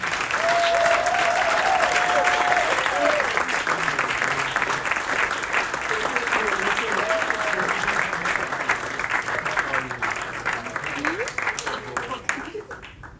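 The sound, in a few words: audience applause for podcast panelists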